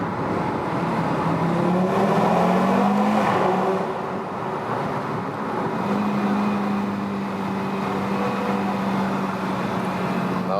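A 2019 Audi RS3 hatchback's engine booms and rises through gears inside a tunnel, heard from the cabin with the window slightly open, a steady loud rumble with rising and falling harmonic sweeps.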